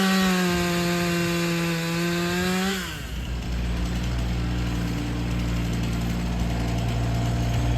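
A chainsaw revs loud and close, its engine whine holding steady, then drops in pitch as the chain bites into a log being bucked into firewood, settling into a rough, continuous cutting roar.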